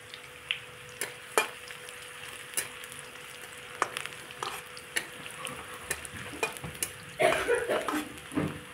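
Onions sizzling and frying in a pan while being stirred, with steady crackle, repeated scraping of a spoon against the pan and a louder burst of sizzle near the end.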